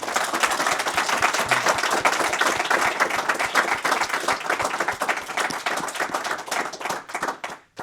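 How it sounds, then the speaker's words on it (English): An audience claps after a technical talk on building a finite element solver in Rust, with distinct individual hand claps forming a lively, steady round that thins out and stops at the end. "giving a big hands of applause"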